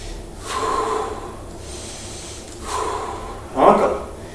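Deep breaths in and out during a bodyweight leg, thigh and glute workout, three audible breaths with a sharper one at the end, close and moderately loud.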